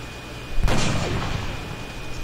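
A single heavy sniper rifle shot from the turn-based strategy game XCOM Enemy Within, a loud sharp blast followed by a long rumbling boom that fades slowly.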